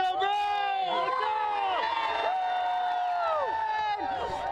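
Crowd at the Atlanta Braves victory parade cheering and chanting, with many overlapping voices and whoops sliding up and down, loud and close, continuous for several seconds.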